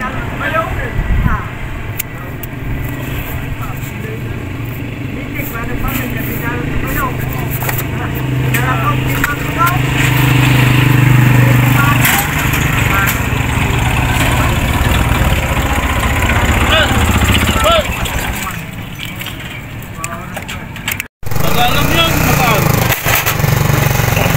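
A Rusi TC Macho 125 motorcycle engine runs steadily while ridden on a flat tire, a loud continuous putter with people talking over it throughout.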